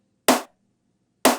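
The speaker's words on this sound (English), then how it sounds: "the snare on its own just sounds like this." Two dry snare drum hits about a second apart, each short and tight with almost no tail, silence in between.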